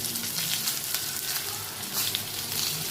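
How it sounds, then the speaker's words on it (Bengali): Pointed gourd and potato fry in a pan as grated ginger goes in, making a close, continuous crackling sizzle with small bursts and uneven spatters. "এবার পটল আলুটার মধ্যে এবার আমি একটু"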